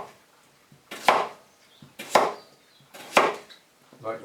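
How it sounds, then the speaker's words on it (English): Baby potatoes are chopped into chunky pieces with a knife on a board, three firm evenly spaced chops about a second apart, each with a soft setup tap before it, close and clear with no talking. "we will chop these up into chunky pieces"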